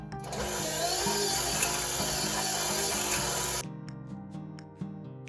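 A stand mixer with a paddle attachment creams butter, sugar and kosher salt for a gooey butter cake. A steady whirring motor hums with repeating mechanical clunks, then the broad noise suddenly drops and a quieter motor tone continues.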